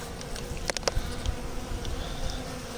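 Honeybees buzz on a hive frame in winter, a steady, faint drone of many wings against a noisy background, with a few brief sharper buzzes as individual bees move close.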